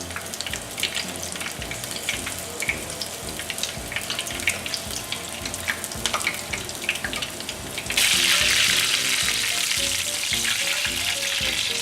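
Battered onion rings drop into hot grease and fry with a loud, steady sizzle and crackle that grows denser and more intense partway through, with no voices.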